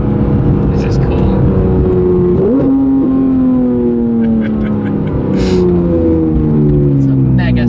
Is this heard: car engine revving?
yes